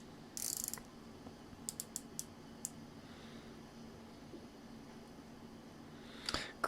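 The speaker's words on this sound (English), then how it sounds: "Bezel action feels nice. Yeah, locks into place pretty good." Several quick, crisp ratcheting clicks from the rotating bezel of an Orient Divemaster dive watch being turned, close and quiet against faint background hiss.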